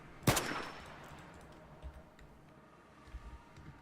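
A single sharp, loud gunshot from a gun in a Minecraft Foolcraft modpack game, a sudden crack that rings out briefly, followed by quiet low thuds and faint clicks.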